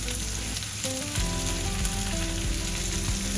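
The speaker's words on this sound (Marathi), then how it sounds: "कांदा थोडं परतून घेऊया." Onion, capsicum and carrot sizzle steadily in a hot pan as they are sautéed for egg fried rice, a loud, continuous frying hiss with occasional stirring scrapes and no voices.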